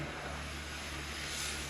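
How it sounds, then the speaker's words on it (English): A plane passing over a Bay Ridge street in New York City on a December night, heard as a steady, distant broadband roar with a low engine hum that holds evenly throughout, no voices. "I think that was a plane, Neville."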